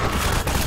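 Dense, rapid gunfire from a firefight in a Half-Life 2: Episode Two single-player mod, loud and continuous with overlapping shots throughout.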